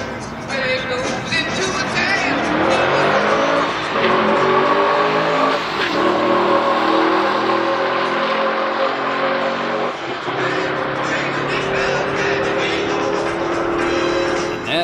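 A black Pontiac G8 GXP with a manual transmission launches and accelerates hard down a drag strip, its V8 roaring loud and steady from start to finish with audible rising pitch through the gears.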